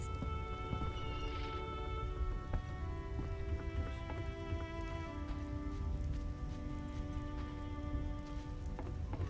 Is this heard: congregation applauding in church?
no